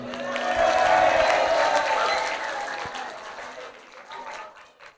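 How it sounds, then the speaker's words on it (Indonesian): Audience applause for a panelist at a school student council (OSIS) candidate debate at SMP Islam Assalamah Ungaran, a dense crowd clapping that swells loud, then gradually thins and fades over several seconds. "Tepuk tangan buat Pak Sul"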